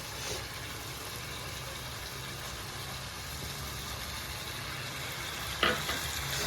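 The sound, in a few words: fish frying in a pan with coriander leaves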